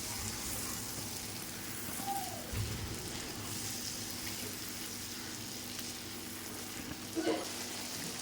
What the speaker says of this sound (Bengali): এবার আমি যে বাটিতে মশলাটা গুলিয়ে রেখেছিলাম সেটা আমি দিয়ে দেবো। ভালো করে কষিয়ে নেব।